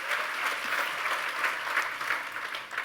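A church congregation applauds during a sermon, a steady, dense wash of clapping from many hands in a large room, moderately loud and continuous.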